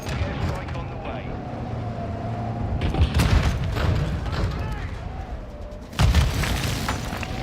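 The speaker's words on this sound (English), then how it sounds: "Friendly airstrike on the way." Friendly airstrike explosions in the video game Call of Duty Modern Warfare II, booming blasts rolling in over continuous battlefield noise, with the biggest impacts landing around the third and sixth seconds.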